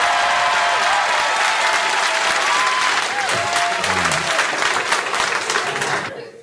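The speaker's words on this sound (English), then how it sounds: "Make some noise for your friend and mine, Josh Johnson." A comedy club audience applauding and cheering for a comedian, dense, loud clapping with whoops that carries steadily, then fades out at the end.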